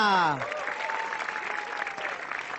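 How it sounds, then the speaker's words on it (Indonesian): Studio audience applause for four stand-up comedians on an Indonesian comedy show, a dense, steady wash of clapping that starts with a brief voice over the top and then runs on alone at an even level. "tepuk tangan sekali lagi untuk keempat komik kita"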